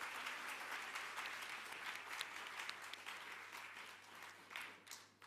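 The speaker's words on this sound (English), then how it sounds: "Another round of applause." Conference audience claps steadily throughout, a full, even round of applause from a large room, heard at a modest distance without talk.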